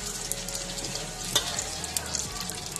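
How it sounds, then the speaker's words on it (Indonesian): Batter-coated squid frying in hot oil, a steady close sizzle and crackle running throughout, with a brief sharp clatter partway through. "Goreng sehingga garing."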